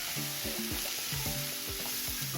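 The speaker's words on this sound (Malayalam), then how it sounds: "കുറച്ച് ഉപ്പ് കൂടി ഇട്ട് നമുക്കൊന്ന് ഇളക്കി കൊടുക്കാം" Green chilli masala stirred with salt in a hot pan for fish pollichathu, giving a constant close sizzle punctuated by rhythmic scraping strokes of a spoon against the pan.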